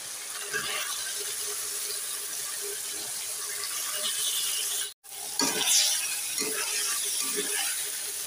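Chicken pieces go into a pan of well-fried spice masala with oil, a close, steady sizzling hiss broken by a brief dropout, followed by wet scraping and stirring clatter, with no talk.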